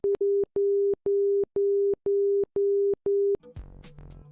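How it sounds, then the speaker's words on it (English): An ILS middle marker beacon sends out a low, steady audio tone as a run of evenly spaced Morse dashes, about two each second. The eight loud, clean pulses stop abruptly and a brief muffled noise follows. "It also produces an audio signal, which is 2 Morse code dashes per second at a low tone."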